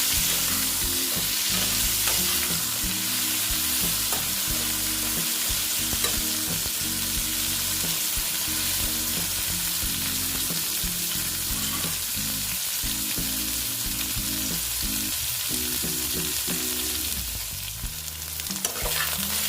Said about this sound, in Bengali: দেখো বন্ধুরা আমি ভালো মতো ভেজে নিচ্ছি